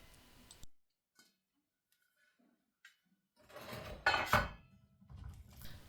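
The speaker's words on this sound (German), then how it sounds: "Nun hat das Gemüse wieder seinen großen Auftritt und darf in den bei mir leider viel zu kleinen Topf zur Fleischbrühe gegeben werden" Vegetables are tipped into a small pot of homemade beef broth, giving a burst of clattering, knocking and splashing sounds after a stretch of near silence, with a few faint ticks before it.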